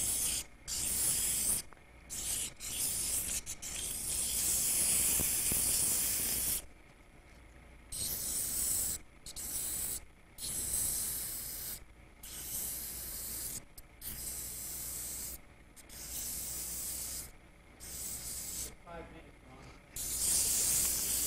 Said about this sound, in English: I'm sanding with 150, but when I do the sanding on these, I'm making multiple, so I turn it at a high speed.